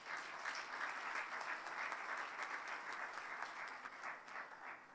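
An audience in a plenary conference room applauds, continuous dense clapping at a fairly quiet, distant level, steady for the whole stretch with a slight dip toward the end.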